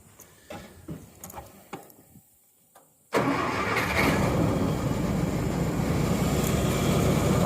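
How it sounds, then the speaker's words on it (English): A John Deere 800 swather engine cranks and catches after a few quiet clicks and shuffles, then roars into a loud, steady run that holds close and unbroken to the end. "Let's fire the machine up."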